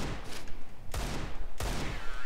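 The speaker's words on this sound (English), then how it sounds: "Use shotgun, man." Shotgun fire in Counter-Strike (CSGO), two loud booming blasts about two-thirds of a second apart over a dense backdrop of other gunfire and game noise.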